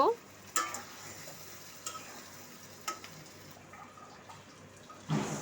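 Potatoes and brinjal fried with spices and ginger-garlic paste in a pan, with a soft sizzle broken by occasional spoon knocks, close but quiet.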